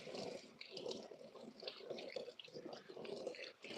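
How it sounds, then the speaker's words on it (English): Running water splashing and trickling over a hand being washed after removing a glove, in a home kitchen during cookie baking; steady continuous flow with uneven splashes, close and moderately loud, no talking. "I'll wash my hand."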